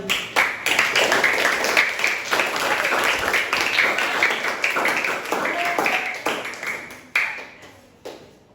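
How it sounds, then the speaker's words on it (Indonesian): Classroom audience applauding a presenting student group after a history presentation on the Umayyad dynasty, a dense sustained patter of many hands for about seven seconds, then tapering into a few scattered claps, with some voices mixed in. "Terima kasih kelompok 4, tepuk tangan"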